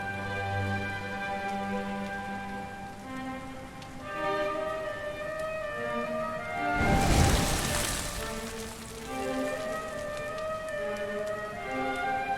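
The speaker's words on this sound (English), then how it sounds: "Looks like the rain's dying down." Steady rainfall in the role-playing game Dragon Quest XI S, a constant hiss beneath a sustained musical score, with one brief louder gusting swell midway and no voices.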